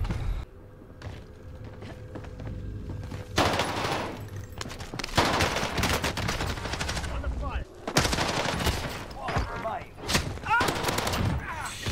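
Bursts of automatic gunfire from a Call of Duty: Warzone firefight, rapid loud volleys in several clusters with brief gaps, some shots near and sharp, with footsteps and thuds between.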